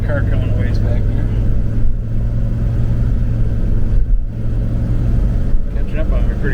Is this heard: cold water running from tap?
no